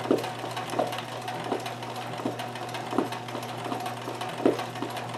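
A Kenmore 158.1914 sewing machine doing free motion embroidery runs at a steady moderate hum, with soft rhythmic clicks and knocks from the needle and bobbin area recurring roughly every three-quarters of a second, close and alone.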